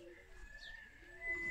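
Zamość pigeons coo softly in a loft, a faint low cooing with some quiet background sounds.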